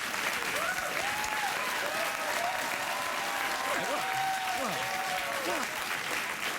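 Studio audience at a late-night talk show clapping steadily and loudly throughout, with a dense crowd applause texture and some voices mixed in.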